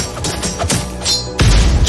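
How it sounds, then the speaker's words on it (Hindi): Swords clashing in a Gorkha battle in the Himalayas: several sharp metallic strikes with ringing overtones, then a heavier crashing impact near the end, loud and close. "तलवारों की टकराहट"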